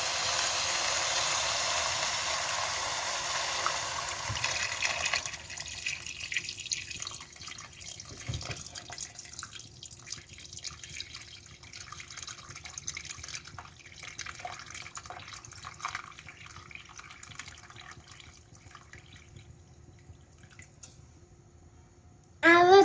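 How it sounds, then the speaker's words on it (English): Warm water pours into a pot of broad bean and mutton pilaf, a steady splashing hiss that settles into quieter trickling and faint drips. "now I add some warm water."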